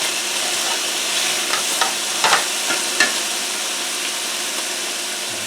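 Onions and crushed garlic fry in a pan for Italian pork chops, giving a steady, bright sizzle throughout, with a few short utensil clicks and scrapes near the middle.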